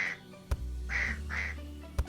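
Ducks in Ranch Farm & Store Simulator give a few soft, nasal quacks in quick succession, fairly quiet, with faint thuds from the game in between.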